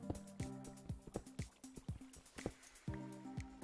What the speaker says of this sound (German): Man hört wieder Wasser.